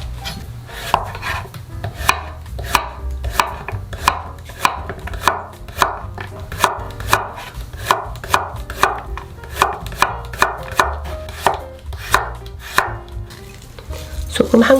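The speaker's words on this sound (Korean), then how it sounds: "애호박은 반달 모양으로 너무 두껍지 않게 잘라주세요." Zucchini is sliced into thin half-moons with a knife on a cutting board: a long, even series of crisp, close chops at a steady rhythm, with no talking.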